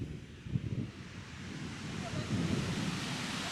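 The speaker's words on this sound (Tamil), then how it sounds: "காற்று பயங்கரமாக அடிக்குது, காற்று அடிச்சிட்டு இருக்கா பயங்கரமாக." Strong wind buffets the microphone on a beach at Waukegan while waves roll in, a steady broadband rush with gusty low thumps, moderately loud and without clear talk.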